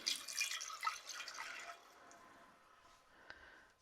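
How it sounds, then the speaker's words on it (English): Homemade teriyaki sauce pours into a container in a soft, close trickle lasting under two seconds, then thins to faint drips and quiet. "Okay, I'm just going to pour this in."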